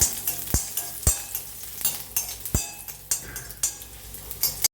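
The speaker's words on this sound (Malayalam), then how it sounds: "ഇതൊന്ന് മൂപ്പിച്ചെടുക്കാം" Chopped ginger and garlic fry in hot oil in a pan, a soft continuous sizzle broken by several sharp scrapes and clinks of a spoon stirring against the metal, close and clear with no talking.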